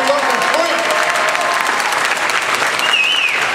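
Sustained applause from a conference audience honoring a Toastmasters contest chair, a dense steady wash of many hands clapping throughout with no break.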